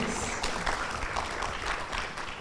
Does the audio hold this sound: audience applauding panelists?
yes